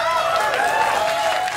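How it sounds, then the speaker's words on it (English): A studio audience at a late-night talk show applauds and cheers in a steady, dense wash of clapping that holds at even loudness throughout, with crowd voices mixed in. "Please don't applaud because you don't know if she's going to be any good yet."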